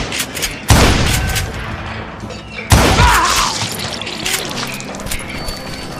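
Gunfire erupts from hired guns in the Western shooter Call of Juarez: Gunslinger, two loud sudden blasts followed by sustained crackling volleys and debris-like rumble, with a voice faintly present underneath.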